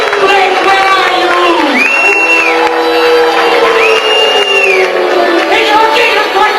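A comedy club audience roars with loud cheering, whoops and clapping that stay continuous and close, with shouted voices rising and falling in the crowd.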